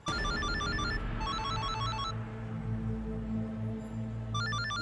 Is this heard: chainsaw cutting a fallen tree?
no